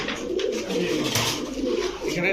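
Giribaj racer pigeons coo softly and continuously in a loft, low murmuring calls layered over a steady background hum, with brief faint voices mixed in.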